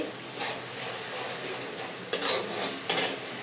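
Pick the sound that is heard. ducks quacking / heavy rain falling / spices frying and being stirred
spices frying and being stirred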